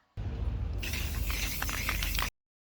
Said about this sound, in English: now I'm going to spray this part